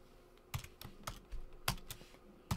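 Several quick keystrokes clatter on a computer keyboard in short irregular bursts, close and fairly quiet, with no talking.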